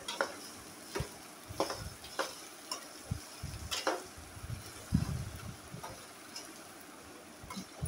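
Okra fry (bendakaya) stirred in a pan, a faint sizzle punctuated by repeated sharp spatula taps and scrapes at an uneven rhythm, quiet and close, with no speech.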